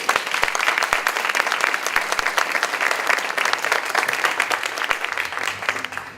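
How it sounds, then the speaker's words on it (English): A crowd applauds steadily and loudly, dense clapping sustained throughout before tapering slightly at the end. "I just want to give Melinda a round of applause again"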